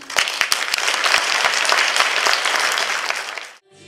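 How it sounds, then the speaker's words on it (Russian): A concert audience applauds at a jubilee show by a pop-vocal ensemble: dense, loud, sustained clapping for about three and a half seconds before it cuts off abruptly. "Благодарность зрителей была отмечена не только шквалом аплодисментов"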